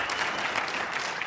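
Audience applause at an urban transit conference session, a dense steady patter of many hands clapping in a hall, even in loudness with no voices over it.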